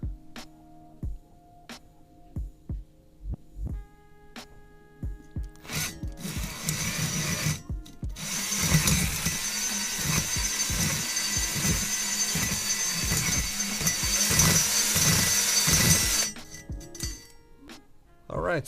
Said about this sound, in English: we're gonna try out the cylinder hone, we're gonna run it through, we're gonna see how well it does